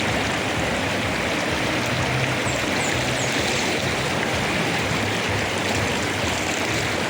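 Choppy, rushing water flows steadily and loud throughout at a forest resort in Nagcarlan, Laguna, a dense continuous wash with no voices.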